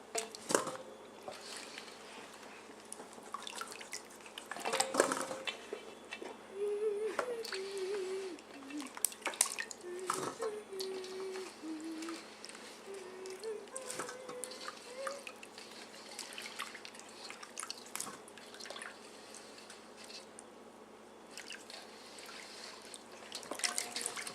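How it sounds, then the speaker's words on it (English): Canned fruit sits draining in a strainer during home canning, with scattered soft drips and small liquid splashes at irregular intervals over a quiet background. "Now you always let it drain so no drip over."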